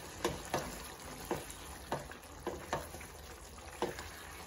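Homemade butter sizzling in a chicken handi, a gentle steady fry punctuated by a series of sharp scraping stirs at irregular intervals, fairly quiet.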